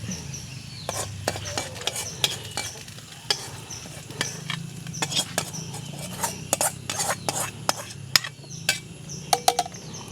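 Browned fried onions are poured into a pot of Kerala payaru kanji, with a run of quick metallic clinks and scrapes of a utensil against the pan over a faint sizzle, close and intermittent, without talk.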